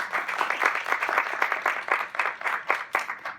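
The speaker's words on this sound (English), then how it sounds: "let's give them another round of applause" Theatre audience applauding panelists from the Beauty and the Beast creative team at a Disney Cruise Line Q&A, a small crowd of distinct, fairly close claps with a brisk uneven rhythm, sparse and tapering near the end.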